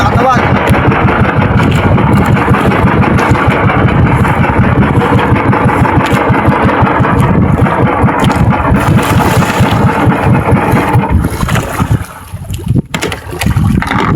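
A small fishing boat's engine runs loud and close with a steady mid-pitched chug while someone talks over it; near the end the engine noise drops away as it is shut off.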